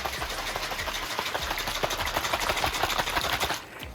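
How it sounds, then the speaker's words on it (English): Salad dressing of sugar, oregano and finely chopped ingredients shaken hard in a shaker, a fast rhythmic sloshing rattle held steady for several seconds before stopping, close and moderately loud. "Fill up our shaker and shake."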